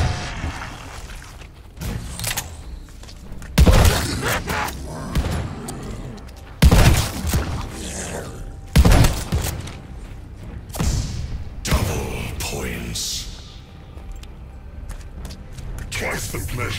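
Gunfire in the Call of Duty Vanguard Zombies video game, a few sharp, loud shot bursts spaced through the clip over steady game sounds, with voices talking in between.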